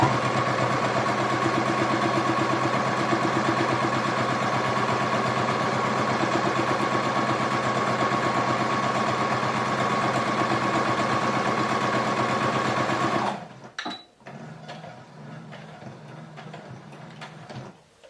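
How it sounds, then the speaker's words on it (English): A domestic sewing machine runs continuously at a steady, even pace while stitching fabric for a rice heating pad, with a loud close-up hum for about thirteen seconds before stopping and leaving faint handling noises. "sew a little piece, back stitch, and then continue sewing"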